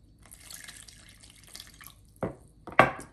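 A tap hisses softly as warm water runs, followed by two short, louder splashing gushes near the end.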